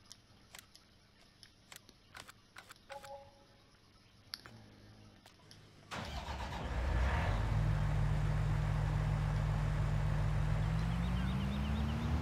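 A combine harvester engine in the video game Farming Simulator 19 starts with clicks and light mechanical noises, then a loud, steady engine drone with a slowly rising whine takes over for the second half.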